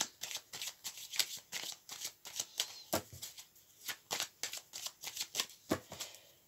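Tarot cards are shuffled close by in quick, crisp riffling bursts, a steady run of papery flicks and snaps with no voices.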